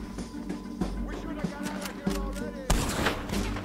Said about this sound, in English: Damn it, I shot off his hat.